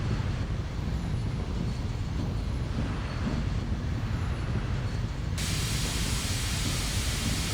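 Steam hissing from a BR10 locomotive in Train Simulator, a continuous broad rush over a low rumble, loud and steady, the hiss abruptly brightening and intensifying near the end.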